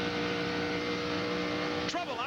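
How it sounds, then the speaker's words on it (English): Busch Grand National stock cars race at Atlanta, their engines a steady loud roar with a car sweeping past near the end, under talk. "get the full sound of these Busch Grand National racers"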